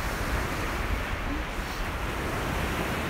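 Surf breaking on a beach in foul weather, a steady broadband roar of waves with gusty wind buffeting the microphone, continuous and fairly close, with no voices.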